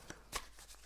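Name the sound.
shuffling tarot cards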